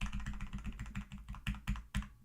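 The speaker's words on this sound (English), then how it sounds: "they'll click in the tempo box and just use their up and down arrows on their keyboard to do this" Computer keyboard arrow keys are tapped again and again in a quick, uneven rhythm, close and fairly quiet, with a few harder presses near the end.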